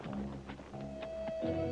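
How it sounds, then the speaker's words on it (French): Quick hoof taps clip-clop over soft background music, faint and brief. "voilà ce que j'appelle un cheval"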